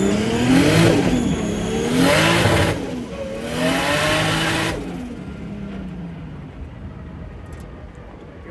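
A Nissan S13 with a 1.5JZ engine revving hard on a dyno, rising and falling through loud, close pulls several times before easing into a lower, steadier drone.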